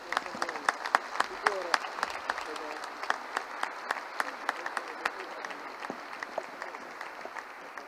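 Steady applause from an audience at an Italian award ceremony, many hands clapping with sharp overlapping claps throughout, fairly distant with some voices mixed in.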